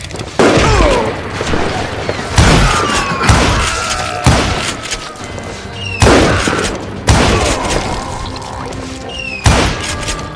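Rapid bursts of gunfire from the video game Gunslinger, several loud booming volleys with ringing tails spaced a couple of seconds apart, heavy and close throughout.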